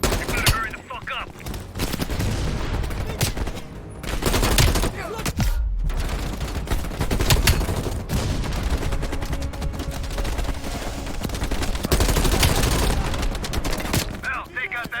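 Heavy machine gun fire in Call of Duty: Black Ops Cold War: dense, sustained rattling bursts from an MG on a ridge, loud and continuous, with a chaotic battlefield din and occasional voices underneath.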